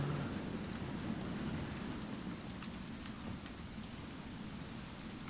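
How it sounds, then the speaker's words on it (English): Steady rain pours in a Resident Evil 2 game scene, a constant dense hiss of falling water with faint rumbling underneath, holding even and unbroken throughout with no voices. "Is it raining outside?"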